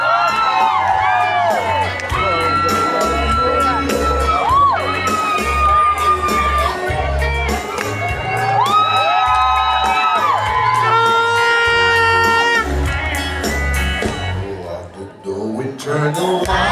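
A KTV finals crowd cheers and whoops for a performer, loud shouts and yells rising over music with a strong beat and sung melody, with some talk mixed in.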